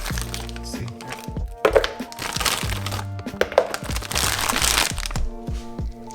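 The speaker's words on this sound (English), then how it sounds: "Also add a bit of ice cubes to make it nice and cold." Ice cubes drop and clatter into a blender over a sea moss smoothie with frozen strawberries, producing a series of loud, sharp cracks and knocks.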